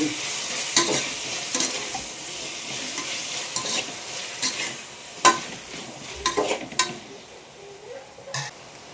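Ginger garlic paste sizzles and fries in a pan over a medium gas flame, while a spoon stirs it with irregular scrapes and clicks against the metal.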